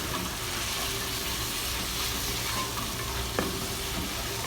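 Ginger garlic paste fries and sizzles steadily in a pan while being stirred, a continuous close hiss with light scraping and one brief clink near the end.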